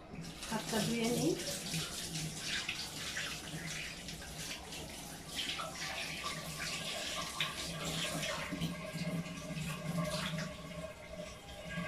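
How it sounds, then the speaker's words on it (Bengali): Tap water runs steadily into a kitchen sink while hands are washed, a continuous close splashing rush with shifting splatter as the hands move under the stream. "হাতটা ধুয়ে নিই"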